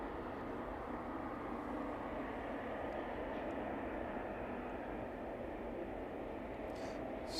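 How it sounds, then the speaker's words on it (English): A Ryanair jet departs East Midlands Airport in the evening, its engines a steady, broad distant roar holding level throughout. "catch the Ryanair as it makes its way out of East Midlands this evening"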